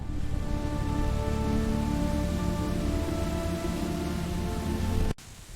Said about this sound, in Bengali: ভারী বৃষ্টি হতে লাগল।